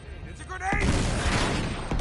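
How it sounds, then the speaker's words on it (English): A grenade detonates in the Uncharted video game, a sudden loud blast that fills the mix and rumbles on for over a second, with a voice briefly heard just before it. "It's a grenade."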